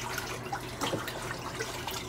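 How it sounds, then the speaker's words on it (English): Water from a tap runs steadily while fish is rinsed in a kitchen sink, a soft continuous splash with small drips, close and alone without talk. "So I'm just rinsing the fish and I'm going to set it in a strainer."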